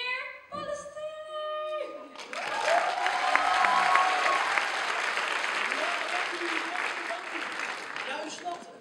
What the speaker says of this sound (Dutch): Een super groot applaus voor meneer Pollestree!